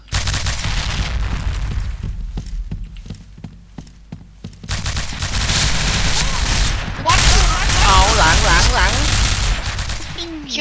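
Gunfire in the shooter video game PointBlank, with rapid bursts of sharp shots and loud, dense firing, mixed with other game effects and excited voices talking over it.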